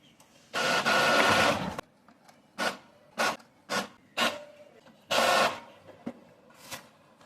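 An Epson EcoTank L6270 inkjet printer running an alignment pattern: bursts of whirring print-head and paper-feed motion, one long pass at first, then a string of short mechanical strokes with brief pauses between them.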